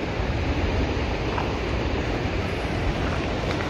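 A waterfall near a mountain village with snow on the surrounding peaks gives a loud, continuous rushing roar that stays steady throughout, with no voices.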